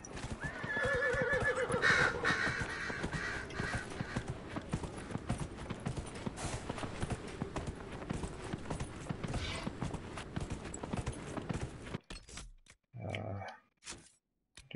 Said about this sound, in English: I'll ride a horse for a bit.